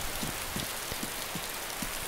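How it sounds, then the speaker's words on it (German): Steady rain in the survival video game DayZ, a constant hiss of falling drops with faint patter on surfaces, even and moderately loud throughout, no voices. "Und jetzt regnet's auch."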